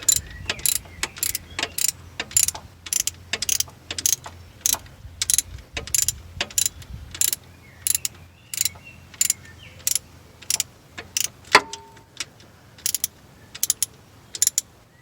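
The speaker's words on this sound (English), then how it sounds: "it's best just putting it on the end of the ratchet and getting in there" A ratchet clicks steadily on a gearbox mount bolt under a Ford Fiesta mk6 TDCi, with sharp rapid pawl bursts repeating in a quick rhythm, close and loud over a low background hum.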